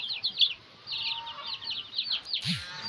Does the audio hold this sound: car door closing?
no